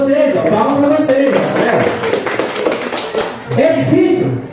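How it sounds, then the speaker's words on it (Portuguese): Students in a physics class applaud, with dense close clapping filling the room while a teacher's voice calls out over it and pauses briefly before the clapping resumes. "palmas para vocês, ó, palmas para vocês"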